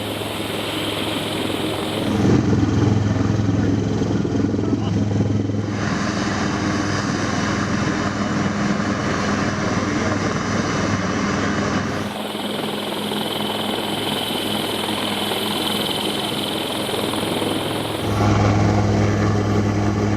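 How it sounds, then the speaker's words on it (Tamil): A rescue helicopter flying over a landslide-hit area of Wayanad, Kerala, its steady rotor and engine drone loud and continuous, swelling and easing slightly as it passes, with no voices. "ஹெலிகாப்டர் மூலமாக மீட்பு பணி நடைபெற்று வருகிறது."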